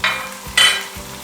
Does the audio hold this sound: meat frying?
yes